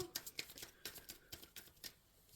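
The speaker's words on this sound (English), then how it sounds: "Shuffling for Pisces for November 2025." Tarot cards are shuffled by hand close up and quietly, giving a run of short papery riffles and taps in an uneven rhythm, with no talking.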